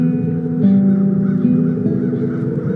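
Crows caw in the fantasy adventure game The Dark Eye: Chains of Satinav, their calls rising over a steady droning backdrop of game ambience and music throughout, fairly loud and continuous.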